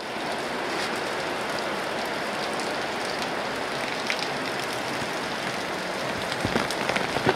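Steady rain pours onto a surface outdoors around a housing block in Penang, a dense continuous hiss with a few louder drip ticks near the end, and no talking.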